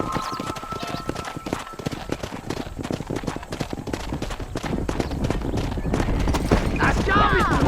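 Rapid hoofbeats of horses galloping while herding cattle in Red Dead Redemption, a continuous drumming rhythm, with a whinny near the end and voices calling out over them.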